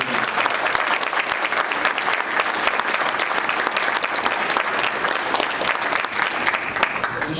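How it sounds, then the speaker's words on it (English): Steady, dense applause from a breakfast audience honoring award winners, sustained and even throughout with no talk over it. "All right, let's give a round of applause for our award winners."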